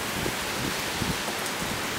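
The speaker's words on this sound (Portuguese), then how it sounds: "o vento é forte de sul e a chuva também" Steady rain hisses throughout, a dense, even wash of noise with no voices and no clear individual drops, on the seafront by the marina at Póvoa de Varzim, Portugal, with a strong south wind.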